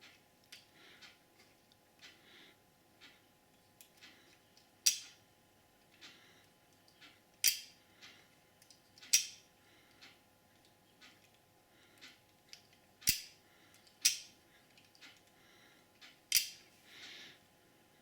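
Sharp mechanical clicks from a Pest Bye water-driven animal repeller, repeating roughly every second or two, some louder than others, over quiet trickling water with no talking.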